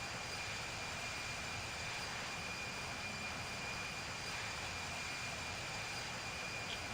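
A Delta jet airliner takes off from Seattle, heard as a steady, broad engine roar from inside the cabin, constant and unbroken throughout.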